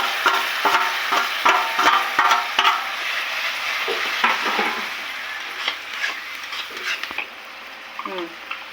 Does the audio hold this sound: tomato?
yes